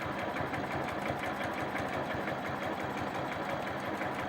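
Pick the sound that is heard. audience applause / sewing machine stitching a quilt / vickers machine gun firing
sewing machine stitching a quilt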